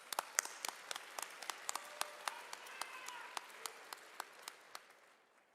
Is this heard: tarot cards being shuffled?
no